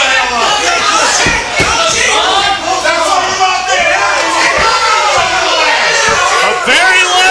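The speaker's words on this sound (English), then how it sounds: "A very lively crowd here in the Pizza Guys Arena tonight." A lively crowd in the Pizza Guys Arena at a professional wrestling event cheers, shouts and chatters continuously. The roar is loud and close, with overlapping voices and occasional slaps.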